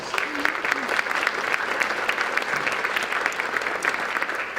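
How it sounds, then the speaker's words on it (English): Sustained applause from a crowd, dense and even clapping that keeps going steadily without a break. "Let's give the three presenters a rich round of applause."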